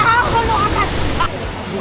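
Steady roaring rush of water falling at Taytay Falls fills the clip, loud and close, with no voices rising above it.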